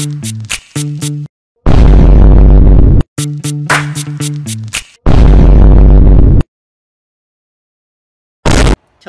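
Explosion sound effect in a cat meme compilation: two loud, sustained booming blasts separated by quick tonal blips, with a short final burst after a silence.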